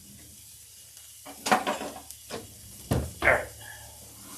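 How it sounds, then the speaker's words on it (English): Lamb searing in a pot sizzles softly under a few sharp clanks and scrapes of tongs against the metal, with one short spoken word near the start. "now I'm going to sear the lamb right in the pot"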